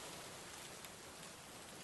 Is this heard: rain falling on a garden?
yes